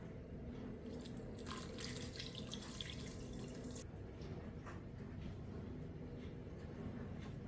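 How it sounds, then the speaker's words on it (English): Water is poured into a cooking pot holding wild duck pieces with soy sauce. It makes a quiet, close splashing trickle that is strongest early on, over a low background hum. "Just put some water as well."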